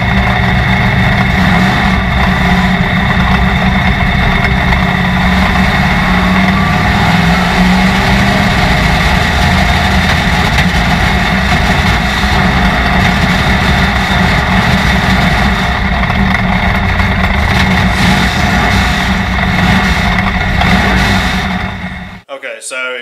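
Onboard race car at practice, engine running loud and close with a steady droning roar and rough low rumble for over twenty seconds, then abruptly dropping away near the end as it dies when the throttle is opened.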